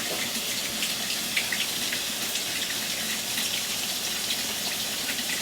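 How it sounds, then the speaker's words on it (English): Tap water runs steadily over pigeon peas in a sink, a close, even rushing and splashing that holds at a constant loud level throughout. "So you rinse those gandules out."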